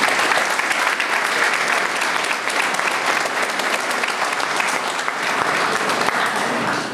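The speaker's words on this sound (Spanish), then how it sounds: "presentar al doctor Aníbal Torres Vázquez, para quien pido un fuerte aplauso." A loud, strong ovation greets a doctor introduced as speaker at an evening civil-liability lecture in Lambayeque, with thick, continuous clapping from a large audience that holds at full volume throughout.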